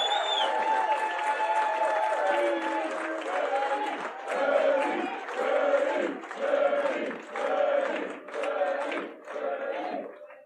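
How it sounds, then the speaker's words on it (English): A studio audience applauds and cheers as a guitarist guest is welcomed on a radio show, a steady clapping wash with surges of cheering that swell and fade in rhythmic waves, with some voices and musical tones mixed in. "Let's just give him the round of applause he deserves because he doesn't need an introduction."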